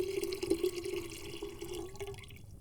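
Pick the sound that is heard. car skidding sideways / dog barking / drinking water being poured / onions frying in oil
drinking water being poured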